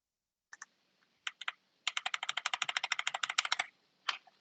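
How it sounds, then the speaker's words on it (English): A loud computer keyboard clacks in short bursts, first a few separate keystrokes, then a rapid run of sharp clicks for about two seconds before one last tap, close and otherwise quiet. "Why is your keyboard so loud?"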